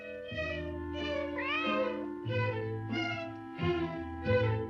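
A cat meows about six times in quick succession, the calls close and clear, rising and falling in pitch with short gaps between them and no talk.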